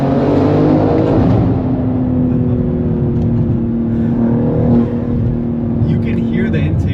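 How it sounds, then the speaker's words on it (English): Modified 2025 BMW M3 G80 Competition with upgraded intakes and tune, its engine held at a loud, steady rev with a droning harmonic tone throughout, close by. "You can hear the intakes pretty well."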